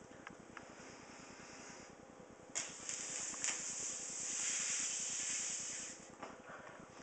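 Air is blown by mouth into a rabbit's skin through a small cut at the back leg, Newfoundland style, giving a long steady breathy hiss that strengthens midway and holds for several seconds.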